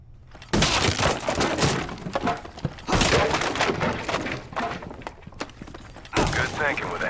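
A hammer smashes through a wall in the Rainbow Six Siege tutorial, loud repeated cracking and crumbling impacts in bursts, with debris clatter between strikes.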